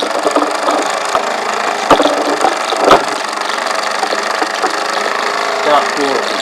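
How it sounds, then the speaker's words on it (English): A model steam engine runs and vibrates, giving a loud, busy mechanical rattle and chuffing with irregular sharp knocks throughout, while a voice talks over it. "You've actually seen an engine run on steam, even though it's not mine. That actually starts vibrating all over the place"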